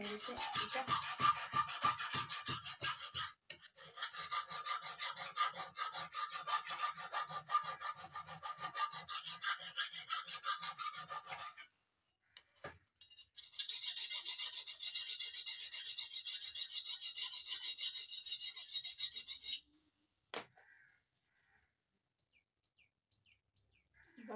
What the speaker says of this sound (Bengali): এরকম ঘষে ঘষে ঘষে ঘষে আমি ধার করি